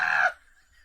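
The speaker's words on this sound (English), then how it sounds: "we can hear the call of the magical hen" A hen's clucking call, played as a sound effect: one short, loud, bright squawk lasting about a third of a second, then near silence.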